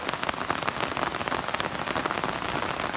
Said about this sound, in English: So it's a rainy day right now in Portland.